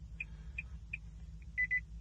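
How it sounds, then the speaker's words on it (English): A Nissan car chirps as it enters key registration mode: several short, thin electronic beeps spaced irregularly, then two slightly longer ones, over a low background rumble and no voices. "Should hear the car beep here in a sec."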